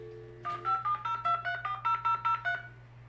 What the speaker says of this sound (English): I'm making a phone call.